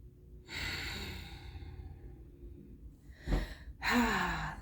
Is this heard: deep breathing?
yes